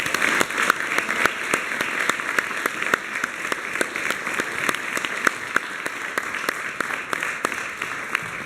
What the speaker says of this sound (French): Donc on peut applaudir maintenant.